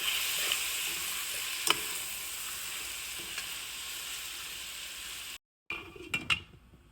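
Tomatoes with chili powder and salt frying in a pan give a steady, close sizzle, with a few light stirring clinks, a brief cut to silence, then a couple of louder scrapes.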